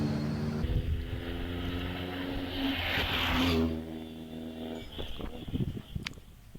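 A vintage Bentley racing car with a 4.5 litre engine and lightweight body at a hill climb, its engine droning and rising in pitch, then the note drops and fades as it passes, leaving quieter background noise.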